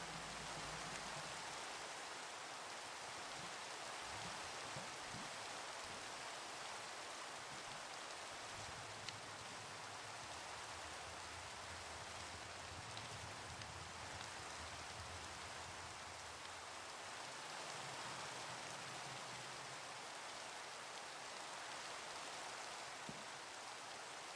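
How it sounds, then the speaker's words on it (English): Steady rain pours down in a video game, a dense even hiss that runs unbroken for the whole stretch at a low level, with no voices. "I know it's raining, guys, but do you really have to be that scared of rain?"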